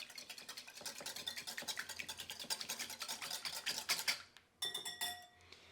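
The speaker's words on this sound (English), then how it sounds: "and then we'll give this a whisk" A whisk beats one large egg and half a cup of milk in a bowl for Nutella crepe batter, giving rapid, steady metallic scraping and clinking strokes at close range for several seconds. The strokes pause briefly, then resume with a few sharper clinks.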